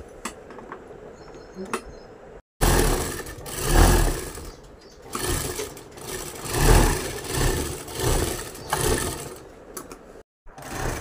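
A sewing machine stitches along the edges of saree and blouse fabric in bursts of fast, whirring runs separated by brief pauses and near-silent gaps, close and fairly loud.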